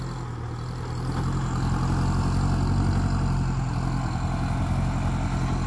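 Kubota L5018 tractor plowing a field, a steady low diesel drone that holds close and constant throughout, with no voices over it.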